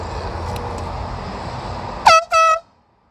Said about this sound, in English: I don't know what they're honking at, but I'll honk back at him.